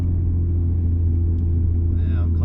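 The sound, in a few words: Nissan Stagea 260 RS RB26DETT engine, driver stalling it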